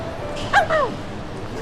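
A dog gives a couple of short, close yips or whimpering barks in quick succession amid faint background room noise.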